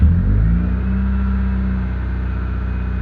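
A car engine with high idle, its throttle screw jammed, starts and revs, then settles into a loud, steady close rumble that holds evenly without talk.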